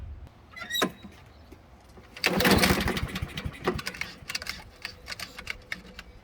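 A small walk-behind lawn mower engine makes a test run after its carburetor was cleaned, with a brief pull-start rattle, then a burst of engine noise that sputters into an uneven, choppy idle nearby.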